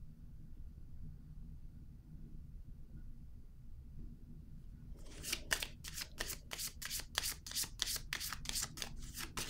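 Tarot cards shuffle near and close after a quiet stretch, a rapid run of riffling card snaps, crisp and regular, with no talk.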